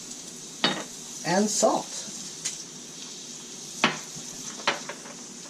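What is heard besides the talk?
mushrooms sizzling in a frying pan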